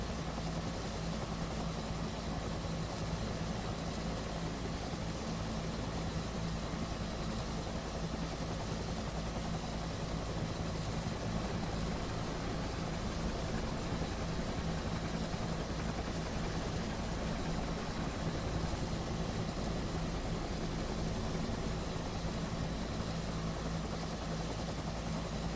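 A Huey helicopter hovers in the flight simulator DCS World, giving a dense, constant rotor and turbine drone that stays steady and loud throughout with no talk.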